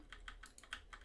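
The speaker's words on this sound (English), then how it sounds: "I'm hitting the WASD keys" WASD keys on a computer keyboard are pressed in a quick run of about eight clicks, faint and close, with no talking.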